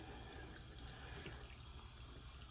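Warm tap water runs steadily into a sink while an estate tobacco pipe is cleaned with a toothbrush and Murphy's Oil soap, a continuous close, quiet splashing stream with no talk.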